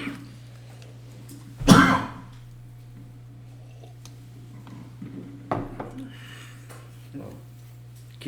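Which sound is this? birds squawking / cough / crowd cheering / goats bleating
cough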